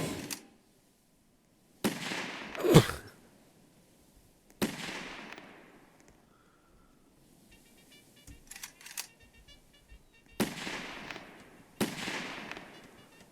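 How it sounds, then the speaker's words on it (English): Distress rockets fired indoors aboard the Titanic in a Roblox game: several sharp, loud bursts spaced a few seconds apart, each with a crackling decay, separated by near-silence and faint digital crackles. "Nope, probably shouldn't fire distress rockets indoors"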